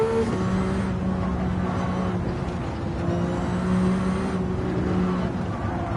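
Race car engine at the Nordschleife in Gran Turismo 7, droning steadily with shifting pitch as the car lifts off and gets back on throttle, loud and continuous.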